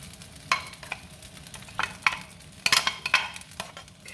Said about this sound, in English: All right, going in with the egg.